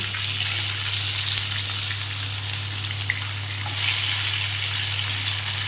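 Cut eggplant pieces hitting hot oil seasoned with black cumin (kalo jeere) tempering, a steady close sizzle and crackle of frying with no talk over it.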